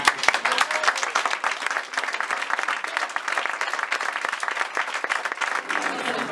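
Sustained audience applause at a live human library event, many hands clapping in a dense, even roar that carries on without a break for several seconds.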